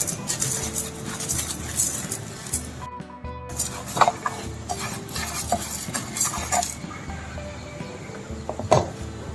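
Chana dal frying in a pan while a spoon stirs it, with repeated close scraping and clinking strokes over a faint steady sizzle and a sharp metallic tap near the end.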